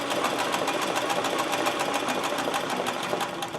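A sewing machine fitted with a size 14 needle stitches machine embroidery, its rapid, even mechanical chatter running continuously and close up with no pauses or talk.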